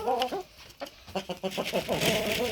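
Chickens cluck close by in rapid, overlapping bursts, several birds calling at once.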